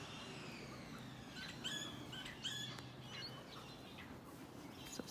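Small birds chirp and call in a garden at Mallacoota, short bright tweets scattered over a steady low rumble of background noise, with distant construction sounds faintly underneath.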